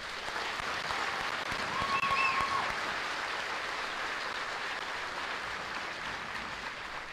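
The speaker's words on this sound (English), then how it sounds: "Can we please give our drill sergeants a round of applause?" Outdoor crowd applause for drill sergeants at a Fort Jackson basic training graduation ceremony, a steady, somewhat distant wash of clapping that continues evenly throughout, with a faint whistle-like tone briefly rising above it.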